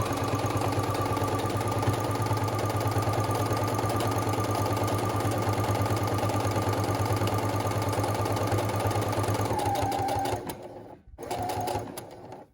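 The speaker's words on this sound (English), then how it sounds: "Go ahead and sew this edge all the way." A sewing machine stitching the edge of a fabric mask, a steady close mechanical whir with a fast even hum that runs for about ten seconds, then slows, stops briefly and restarts.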